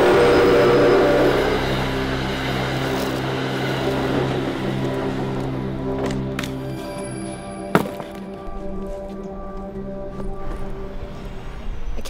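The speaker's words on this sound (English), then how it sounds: "It's the New York train." A New York-bound train passes with a loud rumble at first that gradually fades, leaving a lingering hum with a sharp clank near the middle; no one speaks over it.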